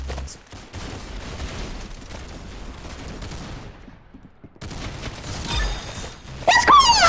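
Gunfire in the Arsenal video game: dense rapid bursts of shots crackle continuously, pause briefly, then resume with sharper impacts near the end.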